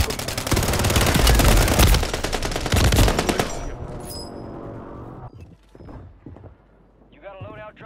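Call of Duty gunfire from an SMG: loud, rapid automatic bursts up close, pausing then firing again, fading into quieter mechanical clicks and gear sounds, with players talking over the game.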